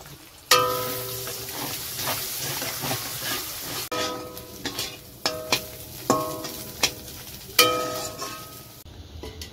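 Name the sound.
egg frying in hot oil in a pan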